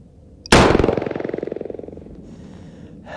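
A single sharp, loud gunshot from a .44 Special revolver fired over a chronograph, followed by a rapid pulsing rattle that dies away over about two seconds, with no voices.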